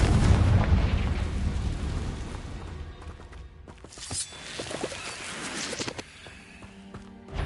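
A Confringo fire spell goes off in the video game Hogwarts Legacy with a loud, rumbling explosion that trails into crackling debris and softer thuds, followed by a second burst of impacts.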